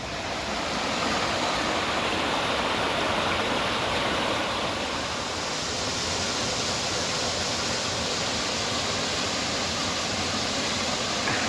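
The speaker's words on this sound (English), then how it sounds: "there's a waterfall right this way and this is it." A waterfall along the Pacific Crest Trail gives off a dense, steady broadband roar of falling water, loud and close, unbroken for the whole stretch with no voices.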